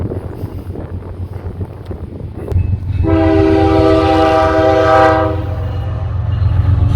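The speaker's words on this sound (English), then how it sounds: "I got to cross the tracks here, so I'll just wait for the train to go by." A train passes a railroad crossing on a road trip, a loud steady rumble of rail cars joined midway by a long sustained horn blast, with wind buffeting the microphone.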